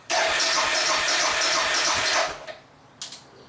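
A Suzuki DR650 motorcycle with the choke on, its engine running loudly for about two seconds before cutting out, followed by a short second burst of cranking or revving.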